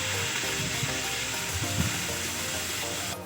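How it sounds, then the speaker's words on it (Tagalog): Galunggong fish frying in hot oil, a steady broadband sizzle with light crackles and scraping, ending in a brief brighter burst. "patuloy lang po tayong magprito ng ating mga galunggong"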